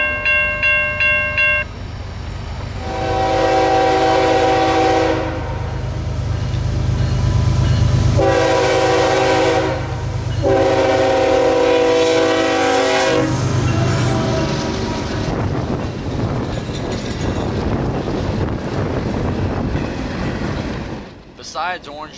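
Phosphate freight train with locomotive 811 on the head, passing Fairbanks Avenue in Central Florida: a long, loud rumble of rolling cars, with repeated horn blasts sounding over it in the first half before the noise broadens and fades.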